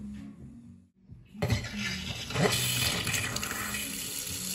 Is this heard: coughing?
no